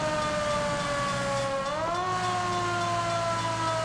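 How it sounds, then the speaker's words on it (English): A police car siren from the video game L.A. Noire wails loud and continuous, its steady tone dipping in pitch midway before settling again. "Slightly annoying siren, it is."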